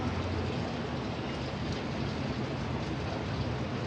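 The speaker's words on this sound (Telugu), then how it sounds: "అది కూడా వర్షం పడుతుంది" Rain falls steadily outdoors as a continuous, even hiss that stays soft and unbroken throughout, with no voices.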